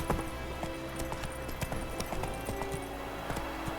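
Roach the horse's hooves clip-clop in a fast, steady galloping rhythm along a road in The Witcher 3: Wild Hunt, close and continuous over a low ambient bed, with no talking.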